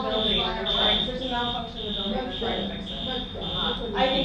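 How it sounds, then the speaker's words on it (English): A building fire alarm sounds because of a malfunction, a shrill electronic tone pulsing steadily in repeated bursts while people talk loudly over it in a crowded indoor gathering. "It's a fire alarm. There's a malfunction in the building."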